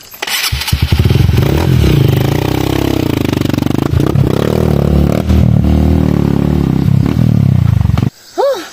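Motorcycle passing close by, a loud engine roar that swells and holds for several seconds before fading away, with no talk over it.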